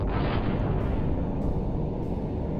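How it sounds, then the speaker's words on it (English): Secondary explosions rumble from a torpedoed ship in the submarine game Silent Hunter 3, a continuous loud, deep roar with dull booms rolling through it and no clear gaps. "You can still hear secondary explosions going off."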